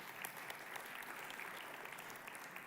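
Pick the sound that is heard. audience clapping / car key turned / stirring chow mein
audience clapping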